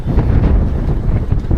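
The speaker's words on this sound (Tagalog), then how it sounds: "sobrang lakas ng hangin at ang lamig" Strong, cold wind blows outdoors in Alberta, Canada, roaring and buffeting loudly against the microphone in a continuous gusty rush with no voices.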